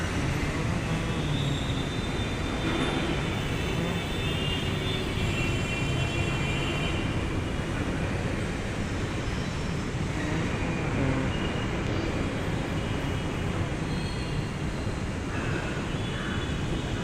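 A Mumbai metro train pulls into Kashigaon station with a steady, dense rumble and hiss of wheels, motors and platform ambience that holds loud and even throughout, with no clear voices on top.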